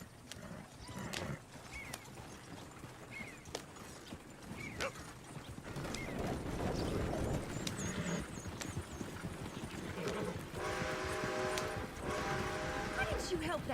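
A horse clip-clopping and whinnying close by, mixed with mechanical rattles and creaks, while people talk over it.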